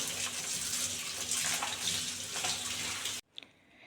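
Curry leaves frying and crackling in hot oil in a pan, a loud, steady sizzle that cuts off abruptly near the end, leaving only a few faint clinks.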